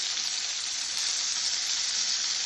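Pork chops fry in a hot pan with a loud, steady, close sizzle that crackles evenly throughout, with no voices.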